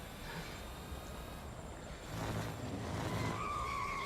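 Race car engine in the racing game Real Racing 3, a steady whining drone with tire skidding and a rising tone toward the end, with no talking.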